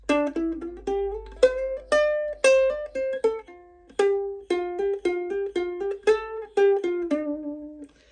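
A clean, bright guitar riff, plucked single notes and short slides in a bouncy, repeating minor-scale pattern, played alone and close up.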